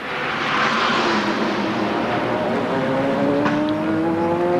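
Race cars, including a Corvette, roar past at the 24 Hours of Spa endurance race, a loud sustained engine drone with rising and falling pitch as cars pass close by and accelerate, continuous throughout.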